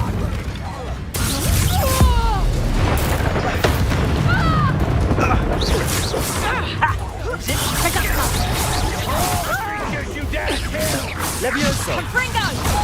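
Spells in the Hogwarts Legacy video game, including the Incendio fire spell, go off as booming, crashing bursts and rumbling blasts. They play continuously over a dense game soundtrack while a voice talks throughout.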